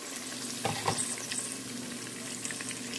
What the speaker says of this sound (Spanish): Aquí en el sartén puse la cucharadita de mantequilla con un poquito de aceite y enseguida voy a poner la cebolla.